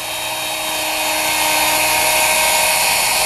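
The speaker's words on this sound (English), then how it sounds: "you guide the router along one fence" A router cutting a dado through wood, guided along a fence jig with a crossbar notch, gives a loud, steady high-pitched whine that holds constant and close for the whole stretch, with no talking.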